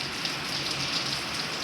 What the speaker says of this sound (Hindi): ज़रा बारिश आ गई है